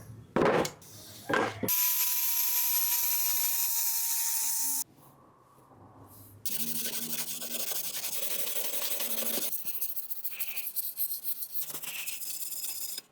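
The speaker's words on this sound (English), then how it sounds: "Then I'm gonna sand down the entire surface of the frame to give it a nice brushed finish." A welded metal frame being sanded to a brushed finish with a power sander, a steady high whirring grind in long stretches broken by pauses and a few sharp knocks at the start.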